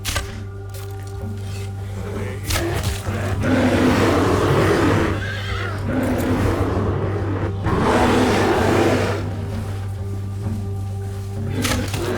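A horse whinnies in Red Dead Redemption 2 over a steady low hum and rustling game ambience, with loud, continuous background sound throughout.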